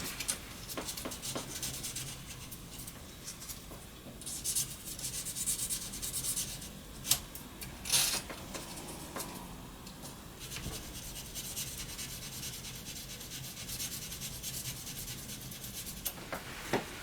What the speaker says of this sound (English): I've got to do a little sanding again on the other side